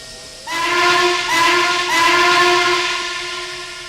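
Norfolk and Western Class A 1218, a 1943 articulated steam locomotive, sounds its whistle in one long loud chord of several blended tones, briefly dipping and swelling before tapering off, heard clearly and close.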